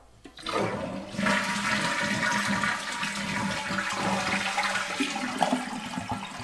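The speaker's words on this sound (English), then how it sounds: "we got to drain all the water out of the tank" A toilet tank is drained during filler valve replacement, with a loud rush of water that keeps swirling and draining steadily, close by.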